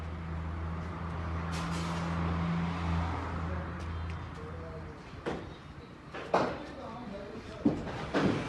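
A Toyota Land Cruiser LC300 engine idles with a steady low hum for about three seconds, then shuts off, leaving quiet broken by a few sharp clicks and thumps nearby.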